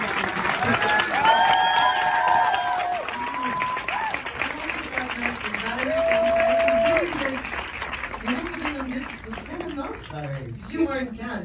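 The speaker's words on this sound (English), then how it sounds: "Everybody, clap your hands for Celine Sciamma." A cinema audience at a New York Q&A with filmmaker Celine Sciamma applauds, with steady clapping under voices and a few tonal whoops or cheers rising above the crowd.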